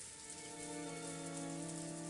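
Steady rain falls in the Umineko visual novel game, a constant dense patter that stays even and fairly close throughout, mixed with a faint sustained musical drone.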